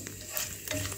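Cumin and fenugreek seeds fry in oil for cucumber chutney, giving a brief, soft sizzle with small crackling pops.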